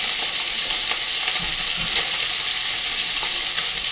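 Poppy seed and green chili paste, mixed with mustard oil, hits a hot pan and sizzles loudly and continuously, a dense close frying hiss with faint occasional stirring knocks.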